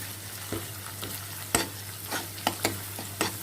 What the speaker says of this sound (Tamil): நல்லா சேர்த்து வதக்கிக்கலாம்